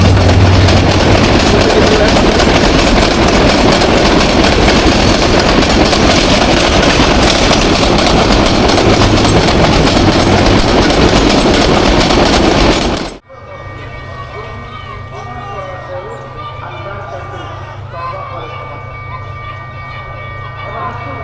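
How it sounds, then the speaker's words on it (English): Bangladeshi intercity express train rushing past the Pahatoli railway crossing, a loud, dense roar of wheels and carriages close by that ends abruptly, followed by quieter ambience with a voice speaking. "One Pajero Express 860 now passing Pahatoli railway crossing."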